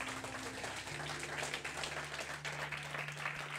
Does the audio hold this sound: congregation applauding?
yes